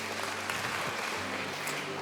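Congregation at a church worship service applauds for God, a steady wash of clapping that sounds somewhat distant and muted, continuous throughout.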